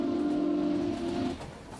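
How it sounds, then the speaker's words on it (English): A steady, sustained train whistle in Minecraft with the Create mod blows for over a second at a train station, then cuts off, leaving a low rumbling background. "you can actually hear a train whistle"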